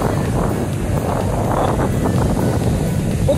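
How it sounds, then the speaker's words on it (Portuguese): Sea waves wash onto the beach at Porto de Galinhas in Brazil under strong, gusty wind, a loud, continuous roaring hiss with no break. "Olha essa água onde tá batendo, galera."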